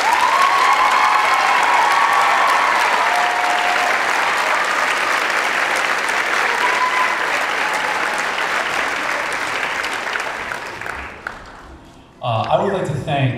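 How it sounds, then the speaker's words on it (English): A school audience at a fifth grade band concert gives a big round of applause to retiring music director Mr. Buddy Bebo, loud sustained clapping with some cheering that fades out, then a voice takes over near the end. "If we can give Mr. Bebo a big round of applause."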